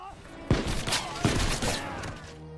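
Gunfire in an Expendables 2 action scene as rebels are shot from a hilltop: two heavy, close blasts about a second apart, each followed by a burst of crackling shots and rumbling echoes.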